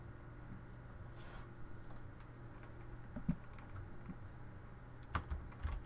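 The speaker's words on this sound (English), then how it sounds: "I'm pressing all the arrow keys" Computer keyboard arrow keys pressed repeatedly while testing a GameMaker clone of The Binding of Isaac, soft scattered clicks and taps over a steady low hum, with a few sharper keystrokes near the end.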